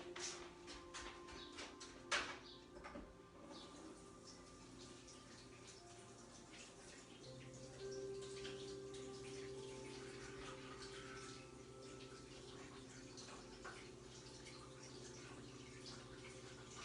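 Running water pours steadily from a tap as a stamp is rinsed, a quiet continuous wash with faint drips and a short clatter near the start.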